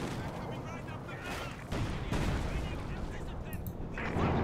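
Booming IS-2 and Panzer IV tank cannon shots and gunfire rumble through a dense, noisy Company of Heroes 2 battle soundscape, with heavy blasts recurring under a steady roar.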